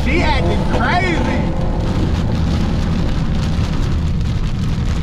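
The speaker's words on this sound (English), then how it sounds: "But this rain is crazy though." Heavy rain drums steadily on a car while it drives, a dense continuous wash of loud rain noise with engine and road rumble underneath and a voice talking briefly near the start.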